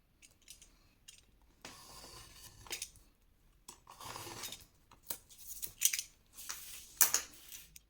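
Scissors snip the corner of a sheet of paper during scrapbook album making, a few short crisp cuts and rustles close by, with no talking.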